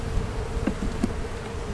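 Honey bees buzz at a hive during queen grafting work, a dense continuous drone close by with a few brief louder bumps and knocks, no talk.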